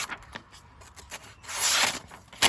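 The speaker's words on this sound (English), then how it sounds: "Actually cutting paper pretty darn well" A cheap Temu knife slicing through paper, dry scraping and rustling strokes close up, with a longer louder cut in the middle and another sharp swipe near the end.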